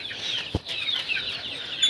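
Stressed young chicks cheeping in a backyard at evening, a dense, continuous high-pitched chorus of overlapping peeps, close and fairly loud, with one short thump partway through.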